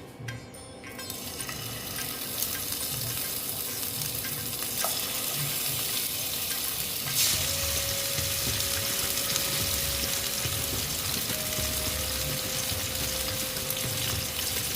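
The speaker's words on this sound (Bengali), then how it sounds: "তেলটা গরম হতে দিচ্ছি দেখো মাছ আমি নুন হলুদ মেখে রেখেছি এবার আমি মাছগুলো দিয়ে দিচ্ছি" Koi fish rubbed with salt and turmeric frying together in hot oil, a loud, steady, close crackling sizzle that holds for the whole stretch with a few faint clinks.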